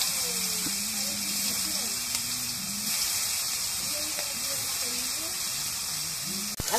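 Eggplant slices sizzle in hot oil in a wok, a steady broadband hiss of frying that runs throughout, with a voice talking intermittently over it.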